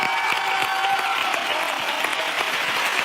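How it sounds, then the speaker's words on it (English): A television comedy panel show studio audience claps steadily, dense continuous applause filling the room without any talk over it. "Give him a big round of applause."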